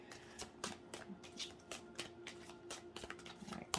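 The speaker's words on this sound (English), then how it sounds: "one more shuffle" Cards are shuffled by hand in quick riffling bursts, soft crisp flutters repeating close by, with no talking.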